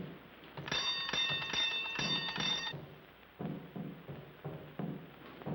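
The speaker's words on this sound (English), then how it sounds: "You ring the bell." A door bell rings with a bright, sustained metallic jangle for about two seconds, followed by softer thumping and shuffling sounds.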